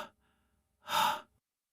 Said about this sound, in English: You can hear the air being pulled in through a broad nose, pulled past rows of teeth, pulled into lungs the size of oil drums, and then pushed out again.